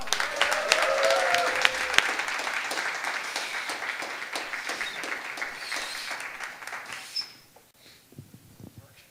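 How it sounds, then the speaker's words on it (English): An audience at a Bitcoin conference talk claps warmly to welcome speaker Matt Whitlock, a steady full round lasting about seven seconds before dying off into a near-silent room with faint stray sounds. "Please give a warm round of applause to Matt Whitlock."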